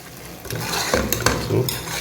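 A utensil scrapes and clinks in a pan as mutton gravy masala with turmeric is stirred and sautéed, with a soft sizzle underneath. Close and busy, with no talking.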